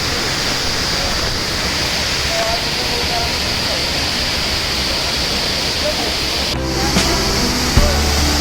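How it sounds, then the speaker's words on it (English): A nature waterfall near Dehradun roars as a steady, dense wash of falling water, close and loud throughout, with a brief clatter of handling near the end. "And here is the reveal of the waterfall."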